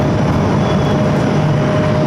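A British Airways Boeing 777-200ER arriving at JFK, heard as a steady, loud, broadband jet roar with a faint whine above it, continuous and fairly close throughout.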